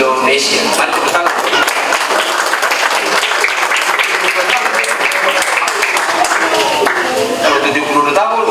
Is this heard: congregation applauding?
yes